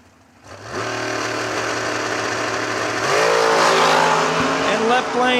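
A junior dragster race car engine fires up and revs hard, its buzzing note climbing in steps as it launches, loud and close with crowd or track noise behind.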